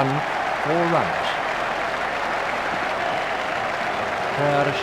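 Stadium crowd in the Cricket 2002 video game applauding a batsman reaching his half century, steady broad clapping and cheering throughout, with a commentator's voice briefly over it near the start and end.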